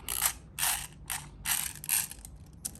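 An airsoft HK416A5 rifle magazine is wound, giving rapid ratcheting clicks in about six short bursts, close and crisp, no talk.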